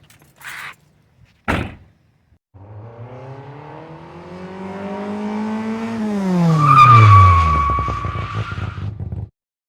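A C5 Corvette gives off a loud, rising tire squeal with a tonal whine that builds over several seconds and then cuts off, preceded by two short knocks.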